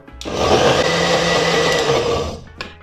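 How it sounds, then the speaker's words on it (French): A blender whirs steadily for a couple of minutes' worth of mixing, blending a vegan cheese mixture for a roasted plant-based cheese; the motor starts abruptly, holds a loud, even roar, then cuts off near the end. "On est reparti pour une deuxième séance de mixage."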